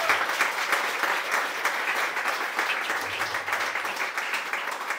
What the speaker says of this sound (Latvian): Aplausi mums!